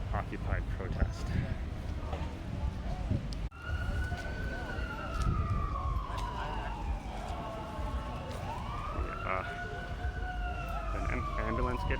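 Wailing emergency siren sweeping up and down at a city street protest in Seattle's Capitol Hill, rising and falling over several seconds amid crowd noise and nearby talking.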